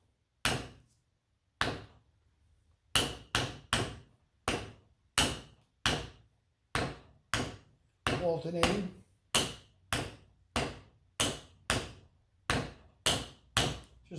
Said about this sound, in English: just take a hammer and actually go hit the outer portion of the body